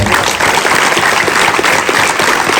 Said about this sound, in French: donc je pense qu'on peut les applaudir très fort